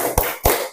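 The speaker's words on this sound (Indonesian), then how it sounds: "Ayo tepuk semangat." Two sharp, close hand claps about a quarter second apart form part of a rhythmic classroom clapping chant.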